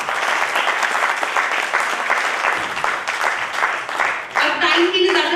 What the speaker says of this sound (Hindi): एक बार चाहूंगी दीपक जी के लिए जोरदार तालियां।